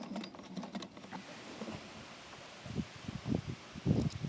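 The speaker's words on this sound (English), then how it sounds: "Sewing without power, hand cranking the monster balance wheel is surprisingly smooth." Hand-cranked sewing machine stitching leather off-grid, its big balance wheel turning with soft, uneven mechanical thumps and patters that grow louder and denser toward the end, no talking.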